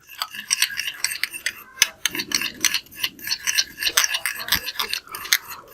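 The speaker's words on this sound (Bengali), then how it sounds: "আমি এখানে এই উপাদানগুলো ভালোভাবে মিশিয়ে নিচ্ছি" Egg protein hair mask ingredients being mixed by hand in a bowl, giving a close, continuous scraping and rasping stir with quick repeated strokes and a few sharper knocks against the bowl, with no talking.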